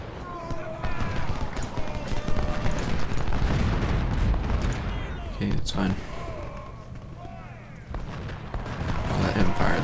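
Infantry volley fire in the Ultimate General: Civil War video game, a dense crackle of many rifles going off at once in several bursts over rumbling battle noise, with a voice talking over it.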